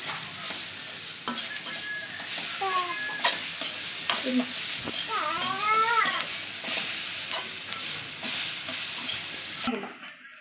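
Coconut and green chillies sauté in a pan, a gentle sizzle with scraping stirs and utensil clatter, while a bird or animal calls in the background partway through.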